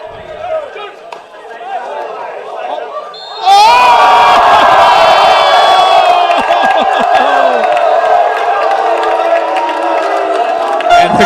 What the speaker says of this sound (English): The crowd is not happy with that at all.